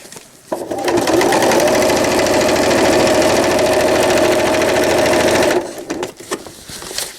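A sewing machine zigzag-stitches aplix hook tape onto a cloth diaper, running in one steady, rapid buzzing burst for about five seconds before stopping, close and loud.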